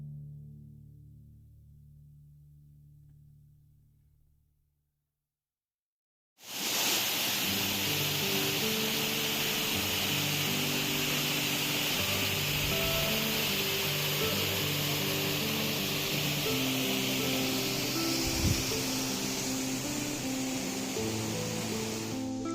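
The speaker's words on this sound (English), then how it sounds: "let's take in this waterfall." Steady broadband rush of a waterfall in British Columbia, loud and continuous after a near-silent opening few seconds, with a low hum running beneath the roar.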